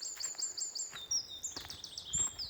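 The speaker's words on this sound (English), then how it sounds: "I guess the birds, you can probably hear them far more active than they were" Birds chirp and sing outdoors near a wooden hut, a quick series of high, thin tweets and trills repeating in bursts, faint with a light background hiss.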